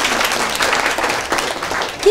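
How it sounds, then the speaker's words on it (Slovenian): Applause from a crowd, a dense steady clatter of many hands clapping at moderate loudness for a couple of seconds. "dajmo en velik aplavz za dekleta"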